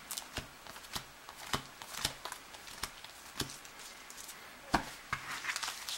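Cards being drawn and handled in a two-player Draco Magi tabletop card game, with a series of crisp, short shuffling and flicking snaps at an irregular rhythm, fairly quiet and close, with no talking.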